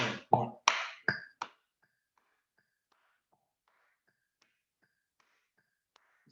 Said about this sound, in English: That's the clapping on the upbeat.